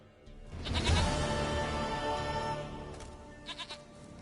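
A goat in The Witcher 3 gives one long, wavering bleat close up, followed by a couple of short, quieter bleats near the end, with no talking.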